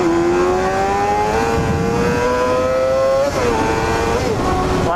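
A small high-revving four-cylinder Honda CBR250RR motorcycle engine screams steadily, pitch climbing then dipping briefly near the end, loud and close throughout.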